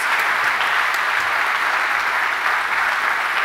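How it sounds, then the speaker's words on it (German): An audience at the SIGA 23 opening applauds the organizing team, with dense, sustained clapping from a large crowd, steady and loud throughout. "Nochmal ganz einen grossen Applaus für das ganze Siga OK-Team."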